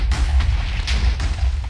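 Explosion in the video game Minecraft, a series of short muffled booms fired in quick succession at moderate loudness.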